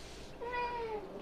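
A pet cat at home gives a single drawn-out meow, clear but fairly soft, rising and falling over about half a second against a quiet room.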